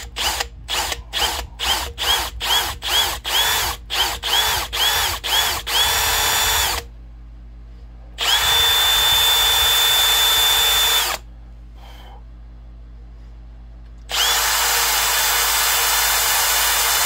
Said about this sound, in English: to drill a hole in this.